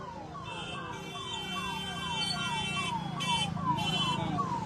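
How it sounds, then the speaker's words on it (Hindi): An ambulance siren wails in a steady repeating cycle of falling tones, loud and continuous over a street setting in Mokama, with traffic noise beneath. "लीजिए, यहाँ एम्बुलेंस आपको दिख रहा है"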